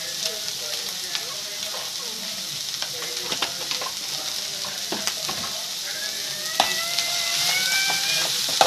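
Onions with salt and turmeric sizzle steadily in a pan while a spoon stirs and scrapes them, with scattered clinks and a brief faint voice in the background.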